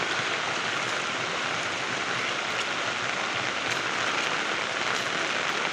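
Heavy monsoon rain in Konkan with water rushing over a road and bridge, a loud, dense, unbroken roar of downpour and flowing water close by, with no voices.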